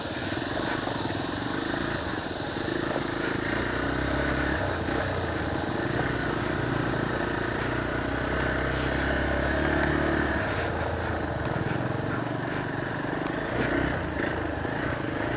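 A motorcycle engine drones steadily along a narrow rocky mountain road near a ravine, a loud, continuous rumble with slight shifts in pitch as it travels over rough ground.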